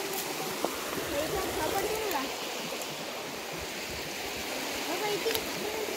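A river runs past a small waterfall near a village footpath, its steady broadband rush of flowing water continuous and fairly close for the whole stretch, with faint scattered higher splashes on top.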